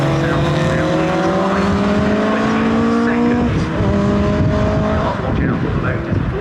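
Peugeot race car lapping Snetterton circuit in a CSCC race, its engine loud and close with rising, shifting tones, tires squealing and other cars passing, under a commentator's voice.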